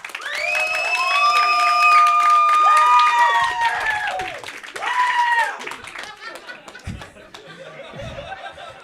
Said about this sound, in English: clap right now.